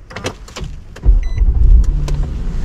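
A car's engine is started after a period of faint background noise, its low rumble catching abruptly and continuing as a steady, close idle.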